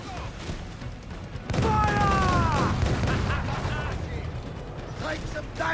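Ship cannons boom in a naval battle in Assassin's Creed Black Flag, with a heavy blast followed by rumbling and whistling projectiles, under shouting voices and game music.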